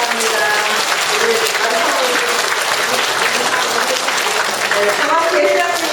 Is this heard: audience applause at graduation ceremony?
yes